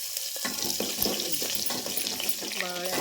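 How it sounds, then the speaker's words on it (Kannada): Garlic frying in hot oil with mustard seeds and cumin, a steady close sizzle with crackling pops and a brief clatter of stirring. "ಇವಾಗ ಬೆಳ್ಳುಳ್ಳಿ ಒಂದು ಸ್ವಲ್ಪ ಗೋಲ್ಡನ್ ಕಲರ್ ಬರೋ ತನಕ ಫ್ರೈ ಆಗುತ್ತೆ"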